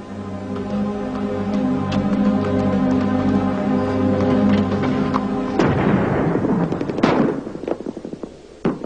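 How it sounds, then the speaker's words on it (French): An artillery shell fired from the hills during military training booms out as one sharp, distant blast with a rolling tail, cutting through a steady tonal background hum. "C'est un obus."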